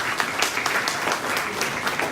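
An audience at a seniors' party in Remelfing breaks into applause: a brief, dense burst of many hands clapping together, sustained and even throughout.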